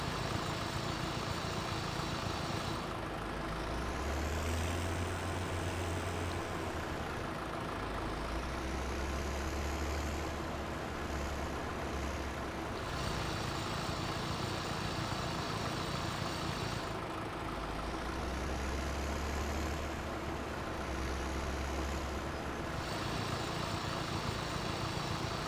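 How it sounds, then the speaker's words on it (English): A tractor running a stump grinder in a farming video game, holding a steady, heavy engine drone for the whole stretch with slow rises and dips as the load shifts, moderately loud and alone. "I was really excited when I found out that this tractor would work with the stump grinder"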